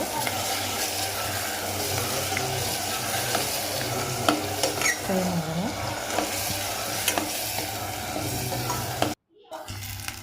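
Ground masala mixture and vegetables sizzle in a pan for spinach pulao, with continuous frying crackle and scraping stirs, before the sound cuts out abruptly near the end.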